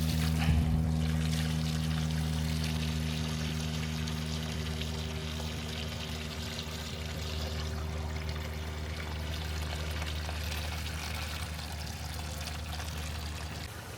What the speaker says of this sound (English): I'm gonna put some water in here